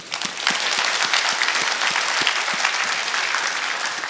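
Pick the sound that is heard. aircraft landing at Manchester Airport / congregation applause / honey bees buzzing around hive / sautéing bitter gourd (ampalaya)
congregation applause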